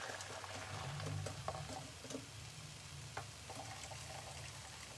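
Garlic and onion fry gently in a pan for a tomato salsa and rice dish, a soft, steady sizzle with occasional clicks and stirring sounds, fairly quiet and without talk.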